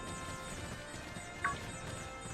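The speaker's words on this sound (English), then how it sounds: "That's a horse." A horse in the Pokemon Sword video game gives a short, bright neigh amid faint clip-clopping hooves, quiet under soft game background sound.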